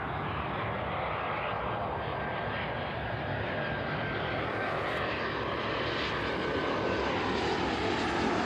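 A Ryanair airliner on landing approach at East Midlands Airport, its engines roaring steadily and loudly with broadband rumble throughout, nearby and with no talk.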